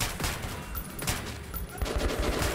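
Repeated gunfire in the game Metro 2033 Redux, a quick burst of shots with sharp cracks close up, continuing steadily through the moment with little else around it.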